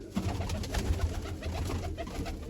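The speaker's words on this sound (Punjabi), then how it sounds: "ਇਹ ਤਾਂ ਵੱਡੇ ਕਬੂਤਰ ਹੀ ਆ" Pigeons coo softly and continuously in low, rolling murmurs, close by, with a hum of background noise and no talking.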